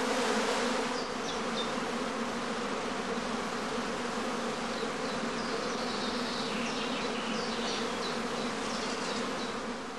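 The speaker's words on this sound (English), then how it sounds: "In a large home apiary like this one, several swarms may emerge almost simultaneously" Honeybees swarming at hive entrances in a large home apiary make a dense, steady buzzing drone that stays loud and close for the whole stretch, with no voices.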